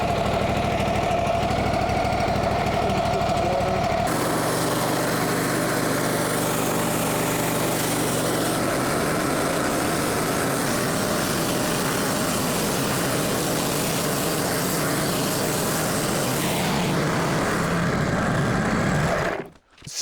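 Portable sawmill engine after sitting idle for a week, a small engine chugging loudly that shifts into a higher, rougher running roar after a few seconds, then keeps going steadily before cutting off abruptly at the end.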